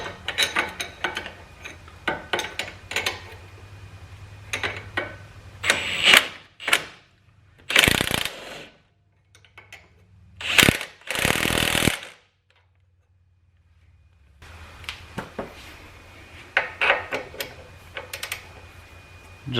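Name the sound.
ratchet tightening sway bar end link bolt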